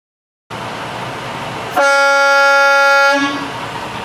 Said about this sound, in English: The air horn is working.